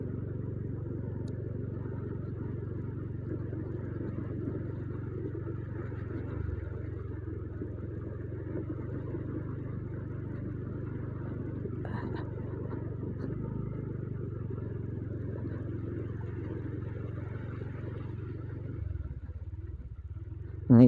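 Low continuous motor rumble of a motorcycle riding along a flooded village road, steady and fairly faint, with faint clatter and splashing texture and no talk.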